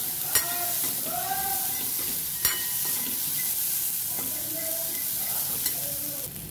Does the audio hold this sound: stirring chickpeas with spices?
yes